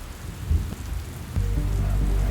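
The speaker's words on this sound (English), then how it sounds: "They sailed on the vast ocean for many months as rain kept falling." Steady heavy rain falling over a vast ocean in a Noah's Ark story, a dense wash of hiss over a deep low rumble that swells louder partway through.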